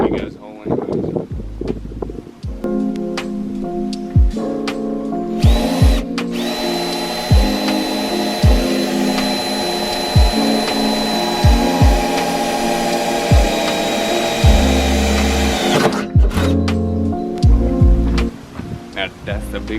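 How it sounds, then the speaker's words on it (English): A power drill bores a hole to mount a car spoiler, its motor whining steadily for about ten seconds, with shorter starts and stops around it and someone talking in between. "I'm gonna drill a big ass hole anyways."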